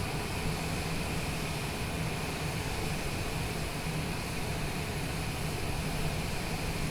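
Steady, unbroken engine drone and broadband rushing noise of a Cessna taxiing across a runway in a flight simulator, constant and close with no pauses.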